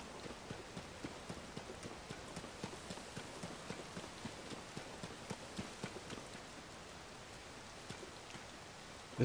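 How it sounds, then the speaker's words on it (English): Steady rain hisses across the whole stretch in Zelda: Tears of the Kingdom, a dense even patter with faint rhythmic taps, moderately quiet and with no talking. "This rain, man, just..."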